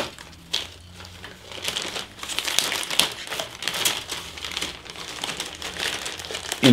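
Sprues from an Airfix 1/48 de Havilland Vampire F.3 model kit crinkle and rustle inside a single plastic bag, a close, steady crackling that swells and fades as the bag is handled, with no talking.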